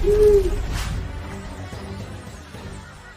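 Cartoon sound effect of a frightening owl perched on a tree branch, hooting loudly once at the start, followed by a fading eerie echo with no voices.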